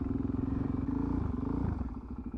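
Motorcycle engine idling and pulling gently at low speed during slow control riding practice, a steady close low rumble with slight throttle variation and a faint clatter, no talk.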